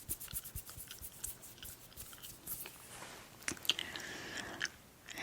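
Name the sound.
chewing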